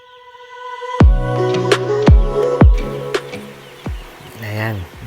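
Broiler chicks in a brooding pen peep loudly and close by, in a series of sharp, irregular descending chirps that overlap in places.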